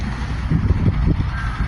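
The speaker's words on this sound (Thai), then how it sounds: "อีกาล้วนๆมีนกพิราบด้วยมาแจมด้วย ตรงนี้อีกาล้วนๆเลย" Several crows gathered in a flock caw in quick, overlapping calls close by, harsh and repeated over a low outdoor background, with pigeons also present.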